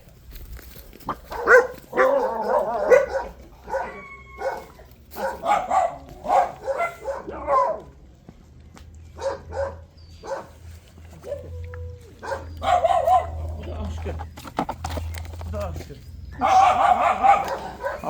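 An old dog with a bleeding tumour gives a few short barks and whimpers, close by, mixed in with a person talking over most of the stretch.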